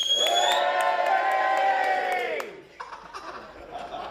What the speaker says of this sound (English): can we have a cheer, please?